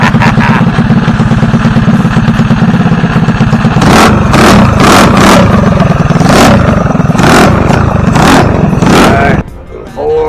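A VW truck engine idles with a steady rumble, then revs loudly several times in quick surges before cutting back near the end, close and dominant.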